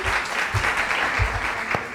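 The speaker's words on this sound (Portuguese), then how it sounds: "Uma salva de palmas, por favor" An audience at a panel discussion claps in a loud, steady burst that lasts the full two seconds, with a few thumps mixed into the clapping.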